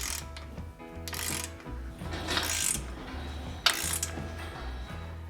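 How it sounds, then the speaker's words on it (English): Ratcheting breaker bar clicks and metallic mechanism sounds while tightening leveling kit nuts on a Ford Ranger, in repeated bursts of close, moderately loud clicking with brief pauses. "we'll finish it with the breaker bar."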